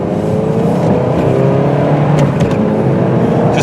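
A blue 2005 Pontiac Sunfire two-door accelerates steadily up to about 50 mph, its engine droning loud and continuous from inside the car, without any talking.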